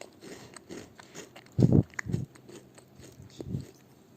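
Crunchy chocolate balls being bitten and chewed close up, a few loud crisp crunches followed by softer chewing sounds, with no talking.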